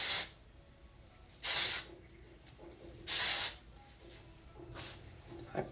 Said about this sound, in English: I use a dry shampoo.